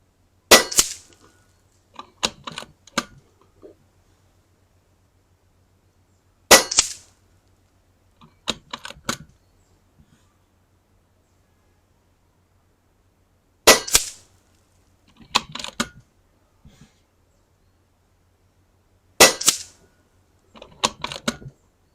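A Kalibrgun Cricket 2 air rifle fires four sharp shots spaced several seconds apart, each a crisp crack followed by quick metallic clicks and clacks of cycling, with a faint low hum underneath.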